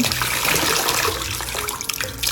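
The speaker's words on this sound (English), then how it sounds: "So I'm going to put it in my bucket, dip it up and down" Mop plunged up and down in a bucket of dirty floor-cleaning water, giving a steady wet swishing and sloshing throughout, close and moderately loud with no voices.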